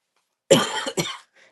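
Two quick coughs close up, the first harsher and longer, followed by brief quiet.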